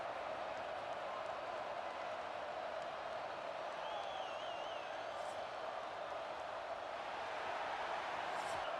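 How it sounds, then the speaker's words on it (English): Stadium crowd in EA Sports College Football, Tennessee at home, roars in a dense, continuous wash of cheering that holds steady and loud throughout, broken only by a faint whistle-like tone. "This crowd bringing an ear-splitting welcome to their visitors"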